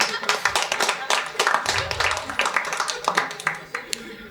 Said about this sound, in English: Clap if you've washed your dick in the sink before